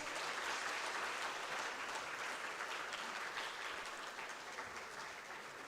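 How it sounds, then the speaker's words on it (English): A crowd applauds at a white coat donning ceremony for a 2023 MBBS batch, with sustained, even clapping throughout and no break. "Let's all give a big loud round of applause."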